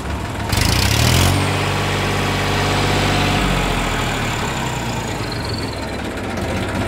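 A Massey Ferguson 1035 DI tractor diesel engine idles outdoors, a steady low chugging throb that holds near and even throughout, with a brief louder burst early on.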